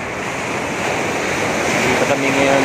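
Sea waves washing on a beach in the evening, a constant loud roar of surf mixed with wind rumble on the microphone, steady and close throughout.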